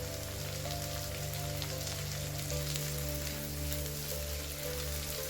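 Chopped onions and a tomato with a little salt fry in a pan for palak chana, giving a steady, close, dense sizzle with a low hum beneath and no talking.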